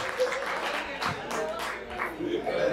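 An audience at a stand-up comedy show claps in a short, lively burst of applause that stays fairly even and moderately close throughout.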